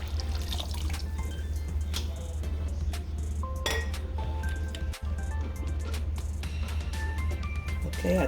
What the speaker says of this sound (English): I take all my caps and my lids out of the boiling water